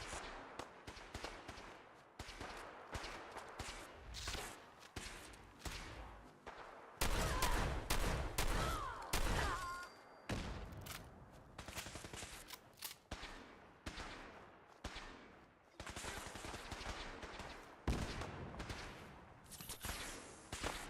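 Gunfire from enemy gunners in Fallout 4 crackles in repeated rapid bursts and volleys, loud and close, with brief pauses between clusters of shots and no voices.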